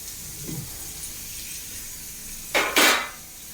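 A spatula scrapes and clatters against a pan of pear poriyal stir-fry, two quick bursts of stirring near the end after a faint soft knock, with no talk.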